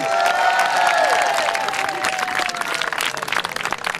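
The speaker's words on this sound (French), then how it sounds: "qu'on peut bien applaudir aussi." Applause and cheering break out from a crowd at a youth football award ceremony in Belgium. The clapping is loud and busy under a few sliding tonal cries, then gradually loosens and thins toward the end.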